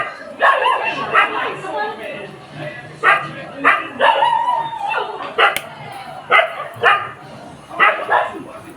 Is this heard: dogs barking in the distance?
yes